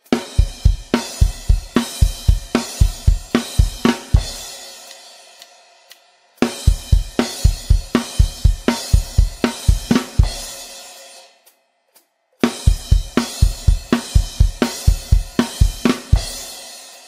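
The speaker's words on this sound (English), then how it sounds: "The first line of the chorus is a lot of crash cymbals." Drums play the chorus of a song with a barrage of crash cymbals over driving kick and snare, three loud, close repetitions separated by short silences, no talking.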